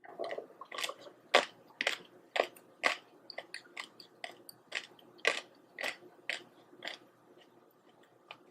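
Crunchy kimchi radish being chewed up close, a steady run of loud, crisp bites and crunches at a regular chewing rhythm, with wet squishy texture between them.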